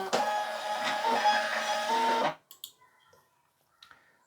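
A small label printer prints a shipping label with a loud, steady buzzing whir for about two seconds, then stops, followed by a few faint clicks and taps.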